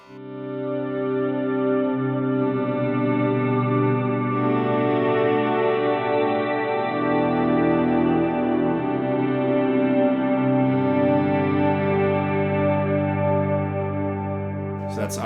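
A thick, sustained guitar pad from a Line 6 POD Go swells and hangs for the whole stretch, layered chords blurring into one another with long reverb tails and no gaps.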